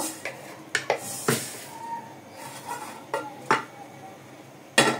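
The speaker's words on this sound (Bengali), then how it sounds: "আমি চালের সাথে দিয়ে একসাথে ধুয়ে নিব।" Rice and lentils being washed together in a metal pot, heard as a run of sharp knocks and clatters at uneven intervals with quiet sloshing in between.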